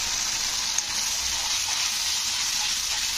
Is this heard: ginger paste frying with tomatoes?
yes